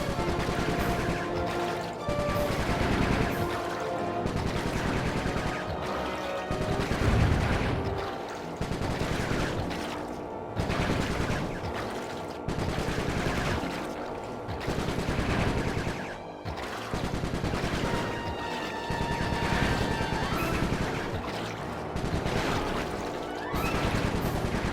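Rapid bursts of gunfire ring out again and again in the Sly 3 video game, dense volleys repeating at a steady pace over a constant backdrop of game sound.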